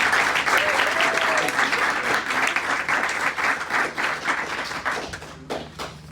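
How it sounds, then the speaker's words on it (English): An audience at a teen business presentation awards event gives a full round of applause, loud dense clapping that holds steady and then thins out at the end. "I'd like another round of applause for Liz."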